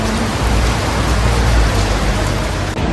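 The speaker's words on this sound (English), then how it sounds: "The rain." Steady rain pours down around a van, a dense, even broadband hiss with a low rumbling undertone, continuous and fairly loud throughout with no voices.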